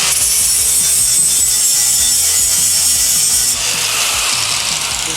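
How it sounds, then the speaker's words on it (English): An angle grinder fitted with an aluminum flat disc grinding a weld off metal, a loud, continuous high-pitched abrasive whine with rhythmic low pulsing, close up and alone, easing slightly near the end. "try just to grind a weld off this to show you guys how serious the aluminum flat disc is"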